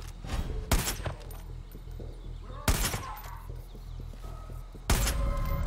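Three sharp bursts of video game gunfire, each a loud volley about two seconds apart, with quieter clicks and game sounds filling the gaps.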